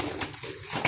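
Pigeons in a backyard loft coo softly and briefly, a low murmuring close by with no talk over it.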